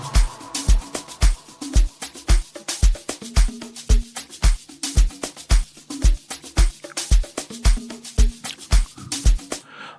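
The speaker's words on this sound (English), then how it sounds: "This is how the drums sound so far." Amapiano drum loop programmed in FL Studio, punchy kicks and crisp percussion repeating in a tight syncopated pattern with deep log-drum style tones, loud and steady with no voices.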